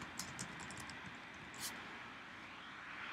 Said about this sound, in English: And notice he's still typing.